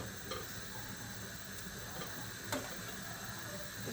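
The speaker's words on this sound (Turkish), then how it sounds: "Böreğimiz için margarin, tereyağı ve sıvı yağ karıştırdım şöyle şu şekilde bunu eriteceğim." Margarine, butter and oil melting together in a pan for a potato tray börek, a faint steady sizzle and hiss with a few light clicks of utensils, no talk.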